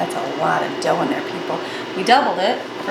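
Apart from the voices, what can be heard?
No distinct noise like a dog, phone or traffic.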